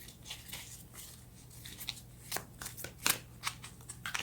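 Oracle cards shuffled before one is drawn: a soft, steady papery riffling and flicking with a few sharper snaps, close and quiet over a low hum.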